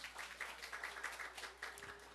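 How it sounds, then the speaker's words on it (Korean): Church congregation applauding during a Sunday service in a Seoul church, a steady patter of clapping with bursts of voices mixed in, fairly faint and distant. "우리 하나님께 박수 올려드려요."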